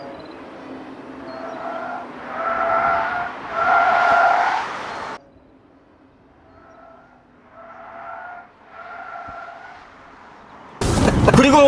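Tires of a Genesis GV60 squealing and skidding through an oversteer slide test, with repeated sustained tonal screeches rising and fading in several passes at moderate distance, then a sudden loud broadband rush at the end.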